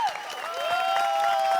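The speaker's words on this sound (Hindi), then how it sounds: "तालियां तालियां।" Applause from an audience at a Hindi comic poetry gathering on a sitcom set, a steady wash of clapping that holds evenly for under two seconds alongside a sustained tonal musical sound.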